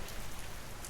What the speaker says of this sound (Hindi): सिर्फ बारिश की आवाज रह गई।